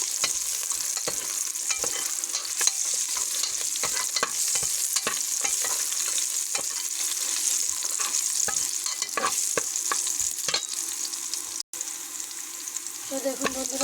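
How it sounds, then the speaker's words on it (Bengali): Panch phoron spices sizzle steadily in hot oil in a pan, with repeated scraping and clinking stirring strokes throughout and no talking. "দিয়ে দিলাম আমি এর মধ্যে পরিমাণ মতো পাঁচফোড়ন। ভালো করে নেড়ে দেবো এভাবে"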